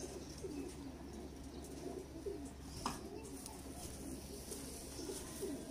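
Breeder pigeon cooing in a loft, soft repeated low coos at a steady rhythm, faint and close, over a quiet background hum.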